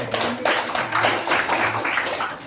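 A class of students in an Indonesian school religion lesson claps hands together, a close, busy patter of many hands lasting a couple of seconds, with a low steady hum underneath.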